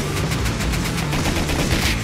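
Rapid, evenly spaced gunshots in Rust, a loud steady automatic burst at close range for the whole stretch.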